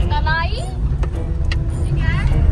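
A car rumbles along rough ground off the road through a farm field near Jaisalmer, a steady low engine and tyre drone throughout, close and loud, with people talking over it.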